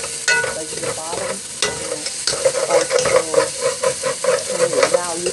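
A spoon stirs and scrapes the bottom of a pot of rice and pigeon peas over a sizzle, with quick repeated scraping strokes that grow busier toward the end, up close and with no talking.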